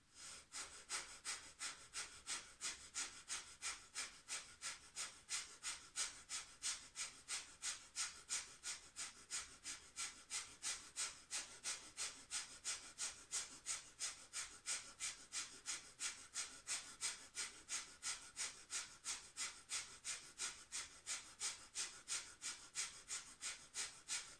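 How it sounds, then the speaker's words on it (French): Breath of fire during a kundalini yoga posture: rapid, even nasal exhalations pumping in a steady fast rhythm for the whole stretch, close and soft with no talk. "dans cette posture, respiration du feu"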